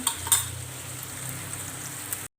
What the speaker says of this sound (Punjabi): ਥੋੜਾ ਥੋੜਾ ਦੁੱਧ ਪਾ ਕੇ ਆਪਾਂ ਮਸਾਲਾ ਭੁੰਨਾਂਗੇ